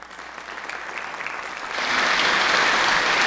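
Audience applause at the Special Olympics Canada awards ceremony for the 2015 Harry Red Foster Award winner, steady clapping from a hall crowd that swells louder and denser partway through.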